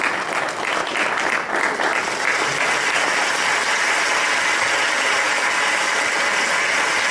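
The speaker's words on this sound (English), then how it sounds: "Let's give her a round of applause." A large audience at a youth awards ceremony applauds an award recipient with a thick, continuous roar of clapping that holds steady and loud throughout, with no speech over it.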